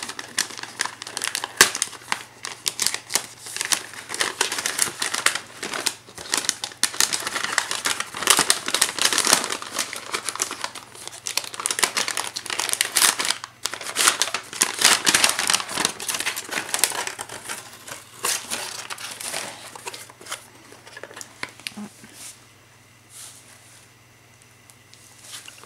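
Wrapping on a package crinkles and rustles as it is opened, a long, busy stretch of close, dense crackling and tearing that thins out toward the end.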